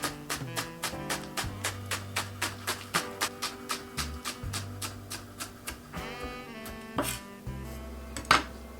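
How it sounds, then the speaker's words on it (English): Knife slicing green onion on a cutting board, a steady run of crisp, evenly spaced chops at close range, with faint clinks of kitchenware near the end. "Green onion, I'm gonna slice it"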